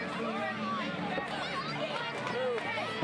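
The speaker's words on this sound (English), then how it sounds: "And there we see some excitement from the crowd." Wrestling event crowd reacting excitedly: a steady roar of cheering and chatter from a packed audience, dense and continuous with voices mixed throughout.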